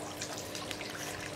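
Water trickles into an aquaponics grow bed as it refills, a steady close splashing and dribbling wash that continues evenly throughout, with no voices.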